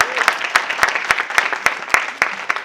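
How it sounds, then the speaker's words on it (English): Applause from an audience at a live Black storytelling show in Tennessee, dense steady clapping with sharp regular claps standing out, close and moderately loud throughout. "So please give me a round of applause."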